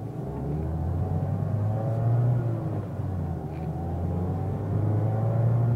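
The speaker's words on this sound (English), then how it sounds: "A lot of the engine noise, which I guess is what you want from a Miata" A 2019 Mazda Miata RF GT engine drones steadily from inside the cabin, a loud, continuous low rumble that swells slightly as it revs, with no talking.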